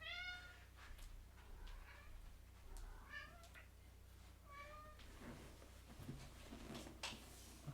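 A cat meows several times, drawn-out calls spaced across the clip over a steady low hum, with a couple of soft knocks in between.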